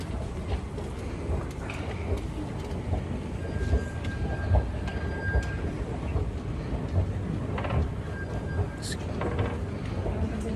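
A train pulling into a busy city rail station near the National Museum, with a steady rumble of rolling cars, a brief brake squeal and people talking over it nearby.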